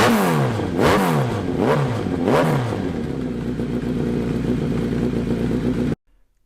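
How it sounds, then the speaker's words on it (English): A Hayabusa-powered Banshee fitted with a 3D printed TPU intake manifold revs up sharply three times in quick succession, then settles to a steady idle before cutting off abruptly, loud and close. "So I installed the 3D printed TPU intake manifold. It fit in the frame nicely, and then I gave it some revs to see how it would sound."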